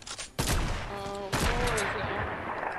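Two loud, sharp sniper rifle shots in Fortnite Chapter 2 Season 4 ring out about a second apart, each followed by a ringing tail and surrounding game sounds.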